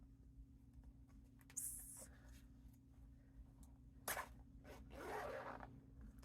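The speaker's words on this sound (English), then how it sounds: "I can't get the zipper open." Zipper on a bag being worked open at a needlework crafting session, short rasping pulls with pauses between them, close up and fairly quiet over a steady low hum.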